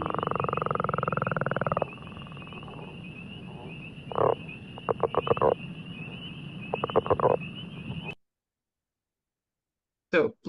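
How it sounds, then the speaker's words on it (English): Northern leopard frog calling in a wetland: a long low throaty snore-like croak, then short rubbery grunting bursts in quick pulses, moderately close over a steady background hum, ending in silence with a brief final burst. "So here's the call of the northern leopard frog."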